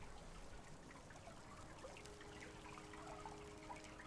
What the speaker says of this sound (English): you can hear the Thorn River flowing in the distance